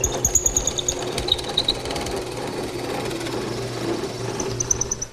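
A drill press bores through a walnut table part, its motor giving a steady close whir with a rapid rhythmic pulsing at the start that settles into an even drone.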